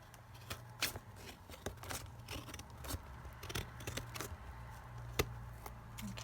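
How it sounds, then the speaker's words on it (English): Scissors trim canvas and packaging cover material for a junk journal in a series of close, irregular crisp snips and rustles over a low background hum. "So let me just trim this down."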